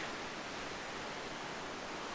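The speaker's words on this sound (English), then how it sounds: "there's some awesome cascades going on down there" Cascades of Ilium Creek rushing through Keystone Gorge near Telluride, a steady, faint broadband roar of falling water heard from a distance with no other sounds.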